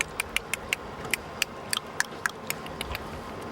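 Orca clicks picked up by a rubber-encased hydrophone lowered into cold water, a series of sharp, separate clicks at an irregular, fairly quick pace over a soft steady hiss.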